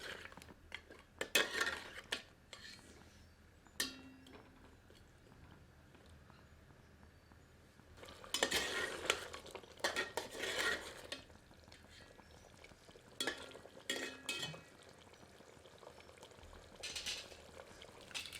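A pot of Kainati mutton korma with curd is stirred over high heat: quiet simmering with intermittent bursts of spoon scraping and clinking against the metal pot, with lulls in between.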